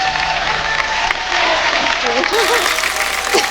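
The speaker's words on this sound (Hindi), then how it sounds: "एक बार जोरदार तालियां सोनाक्षी के लिए" Studio audience claps and cheers for Sonakshi Sinha on The Kapil Sharma Show, a steady loud wash of applause with voices talking over it.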